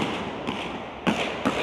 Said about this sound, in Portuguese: Tiro de fuzil